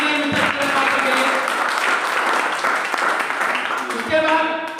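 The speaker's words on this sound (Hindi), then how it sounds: "सर मैं चाहूंगा जोरदार तालियां बजाइए के लिए।" An indoor business-meeting audience breaks into loud, sustained applause, a dense steady wash of clapping that fills the room throughout, with some voices and crowd murmur underneath.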